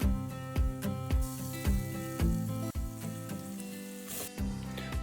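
Onions frying with fresh ginger garlic paste for egg curry crackle and sizzle loudly in a pan, punctuated by a regular series of sharp spatula taps against the pan, up close with no speech.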